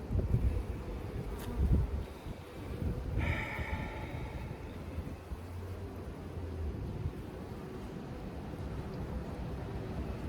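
Honey bees from a Layens hive infested with hive beetles buzz in a soft, continuous drone close by, with a few louder passes as individual bees fly near.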